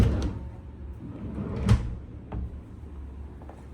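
Empty storage drawers in a Moxy Kuala Lumpur Chinatown deluxe loft hotel room sliding open and shut, a few soft wooden knocks and scrapes close by over a low room hum, with one sharper thump in the middle.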